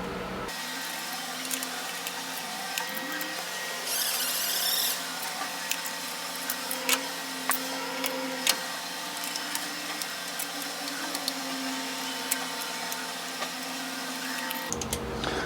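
A CNC honing machine working the cylinders of a Dart LS Next 2 engine block with CBN cutters, a steady mechanical whine and hum with small clicks, running continuously before stopping abruptly near the end.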